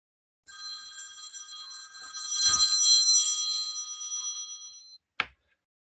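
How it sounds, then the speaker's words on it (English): A work desk telephone rings with one long electronic trill lasting several seconds, loud and close, then a short final burst before it stops, with no voices. "That sounds like my work phone."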